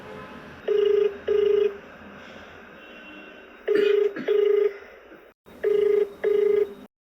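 A telephone rings back with paired ring bursts, heard three times in evenly spaced pairs, each pair followed by a pause. A faint low background hum sits beneath, and the tones are clear and moderately loud.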